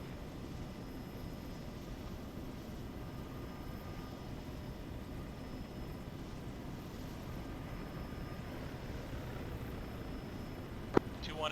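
Aircraft taking off in ArmA 3, a steady distant engine roar and rumble held at an even level throughout, with a sharp click near the end.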